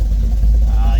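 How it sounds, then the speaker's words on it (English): Engine of a 1971 Chevy C10 pickup idling steadily at a stop, a dense low rumble running through the whole short moment with faint road noise on top. "The car, or the truck, I guess, is idling beautifully."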